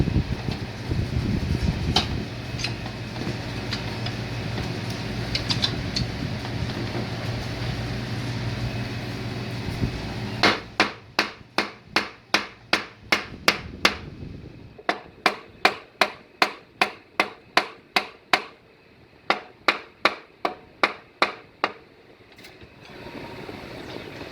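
Sharp metallic hammer blows strike a 4L60 automatic transmission part in a steady series, each loud and distinct, following a stretch of low mechanical rumble.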